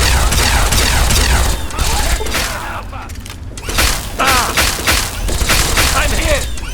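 Gunfire in the post-apocalyptic game Fallout 3 comes in repeated loud, chaotic bursts with booms and clatter, broken by brief lulls, as voices shout in the middle of a firefight.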